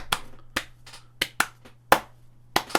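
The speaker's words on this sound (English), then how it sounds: "What are you clapping out?" Hands clap out a slow, uneven rhythm of about six sharp, close smacks with short gaps between them, heard alone with no talk, at a casual card-game draft session.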